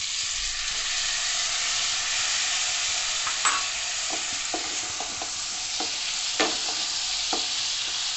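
Potatoes and chopped tomatoes being stirred into spiced oil in a pan, with a steady sizzle of frying throughout and several soft scrapes of the spoon against the pan.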